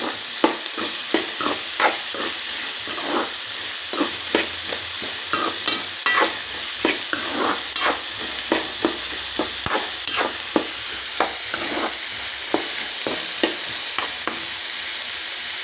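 Onions frying in a pan until reddish, a constant sizzle broken by regular sharp scrapes and taps of a spatula stirring them, close and alone.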